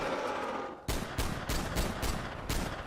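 Gunfire aimed at a Yeti in a video game: a loud, rapid series of about seven evenly spaced shots follows a short stretch of background noise.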